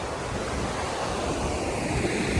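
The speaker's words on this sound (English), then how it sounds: "it's really windy as well" Strong wind blowing across a Glen Etive campsite, a constant loud broadband roar buffeting the microphone with no breaks.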